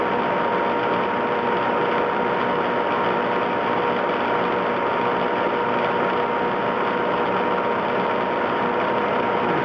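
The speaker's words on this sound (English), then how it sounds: "Alright, we'll turn this on. We're in high speed. I'm spinning right at about 1800 RPM." A machine spins steadily at about 1800 RPM in high speed while a muzzle brake is being built, giving a loud, continuous mechanical whir with a ratcheting, gear-like texture and no talk.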